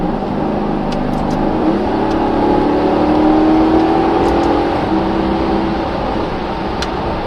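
A 2009 Maserati Quattroporte GTS in manual mode accelerates from inside the cabin, its engine note rising in a steady, loud drone with a shift-like dip midway before climbing again.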